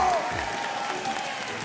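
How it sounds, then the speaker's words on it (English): A crowd claps in dense, sustained applause at the Clash Royale League 2022 World Finals esports event, steady throughout, with a brief voice at the very start. "One more time, let's hear it for Sweep."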